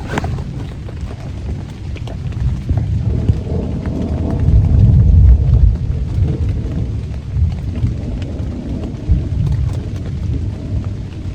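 A thunderstorm at a campsite: heavy rain pours steadily while low thunder rumbles and swells loudly near the middle, with wind buffeting the microphone and no voices.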